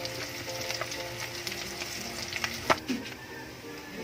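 Food sizzles steadily in hot oil nearby, a constant crackling hiss with occasional sharper pops and a brief clink of a utensil.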